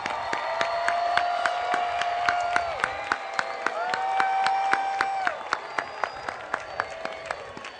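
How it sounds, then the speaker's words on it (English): Audience applause at a college commencement ceremony for Long Beach City College's class of 2010: sustained clapping with sharp individual claps and whistles over it, fading to scattered claps near the end. "One more round of applause."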